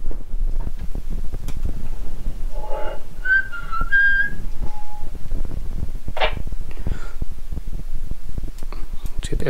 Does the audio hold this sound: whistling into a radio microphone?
yes